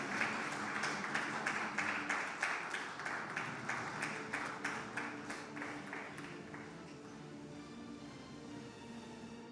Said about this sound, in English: You don't need to stop clapping